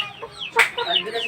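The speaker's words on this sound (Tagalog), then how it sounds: "Marami na siyang mga sisiw." Hens and chicks clucking close by on a small farm, a few short clucks and chirps with one louder sharp call in the middle, heard alone without talk.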